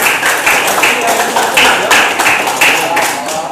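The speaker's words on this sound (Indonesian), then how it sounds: "Tepuk tangan untuk kita semua ya" A classroom group applauds together in steady rhythmic claps, loud and close, that keep going throughout.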